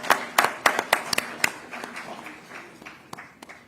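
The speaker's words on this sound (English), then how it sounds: "Please, a big round of applause, guys." Scattered conference audience claps for the final panel on the last day, a handful of sharp individual claps at first that thin into sparse, fading applause, with no one talking.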